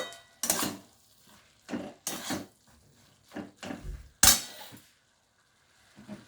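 Shredded cabbage gets mixed with red chili powder in a metal pan, a spoon scraping and knocking in separate strokes with short quiet gaps between them, close and fairly loud.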